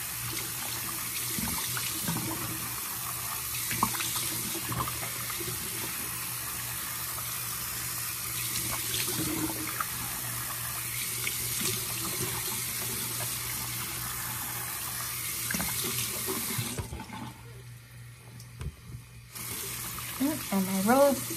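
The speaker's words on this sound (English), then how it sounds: "I'm gonna wash it off with some cold water." Cold tap water runs steadily into a sink for a face wash during a skincare routine, a continuous hiss that stops briefly near the end before resuming.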